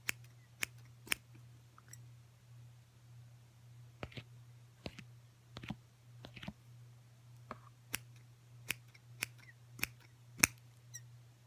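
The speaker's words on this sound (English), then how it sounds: "These scissors have like a little squeak in them." Squeaky scissors snip repeatedly through hair in crisp, uneven clicks, some with a slight squeak, close by over a low steady hum, with no talking.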